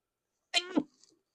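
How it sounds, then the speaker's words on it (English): A single sharp, close sneeze bursts out after a moment of silence, followed by a faint trailing breath. "I'm gonna sneeze."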